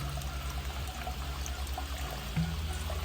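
Water flows through a bell siphon into a crayfish pond as a quiet, steady trickle and pour, with faint low hum underneath and no voices.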